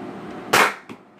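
A Nerf Rival blaster fires once while hunting moths: a single sharp, loud snap followed by a smaller click a moment later, close and isolated against quiet background.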